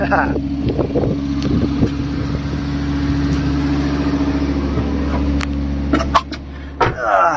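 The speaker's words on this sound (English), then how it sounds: "it's very high up in idle, but it didn't run for a few years" A Fiat Stilo Abarth, left unused for several years, idles high with a steady, loud drone close by, while people talk over it and a couple of clicks and knocks sound near the end.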